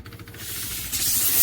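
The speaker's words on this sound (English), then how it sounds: "it's still going to be spraying steam out" A rising, breathy hiss of steam spraying from a 2500W handheld steam cleaner, getting louder and steadier after a brief quieter start.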